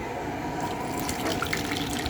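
Hot water runs into a sink while bottles are washed in a home kitchen, a continuous close splashing flow with a few brief knocks and drips.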